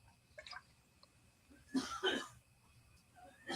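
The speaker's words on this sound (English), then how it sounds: "I heard coughing." A few short, faint coughs and throat-clearing bursts, a pair of them close together near the middle, in an otherwise quiet room.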